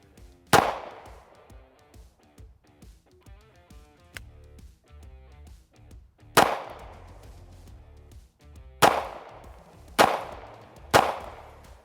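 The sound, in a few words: Fusion Firearms XP Pro 2011 pistol shots, 124 grain ammunition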